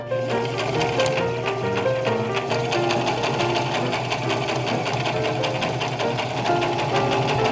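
A sewing machine stitches fabric with a rapid, steady mechanical clatter and hum, running continuously at close range throughout.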